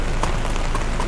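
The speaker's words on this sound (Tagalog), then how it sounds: "Pinabutan kami ng ulan" Steady rain falling by the sea at Tibo Tidal Pool in Aurora, a dense, even patter of drops hitting surfaces close by, with no voices.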